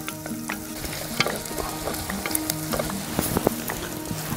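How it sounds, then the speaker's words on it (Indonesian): Squid with tomato and chili sizzling and frying in a pan, a steady crackling hiss with occasional stirring scrapes, close and continuous with no talk. "Jadi sekarang tinggal bentar doang gorengnya. Baru kita masukin tomat dan cabenya."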